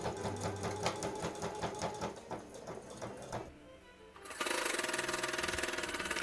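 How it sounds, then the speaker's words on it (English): A sewing machine stitches a quarter-inch seam on a quilting project, running in a fast rhythmic chatter, pausing briefly, then resuming at a steady, dense whir up close. "And now I'm going to sew my 1/4 inch seam, leaving an opening at the end"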